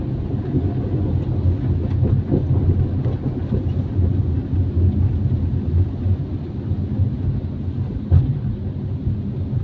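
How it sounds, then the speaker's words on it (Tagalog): Steady heavy rain and wind roar during a typhoon, a dense continuous wash with low rumbling that could be distant thunder, plus a brief louder thump near the end; no talking. "Pati ngayong araw ng Biyernes, may bagyo pa rin ho"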